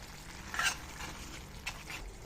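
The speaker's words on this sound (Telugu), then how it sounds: "స్టవ్ ఫ్లేమ్ పెద్దగా చేసి ఇలా కలుపుతూ ఉండాలి" A spatula stirs soya chunk and ridge gourd curry in a pan over a raised flame: a soft, steady sizzle with two brief scraping strokes, faint and without talk.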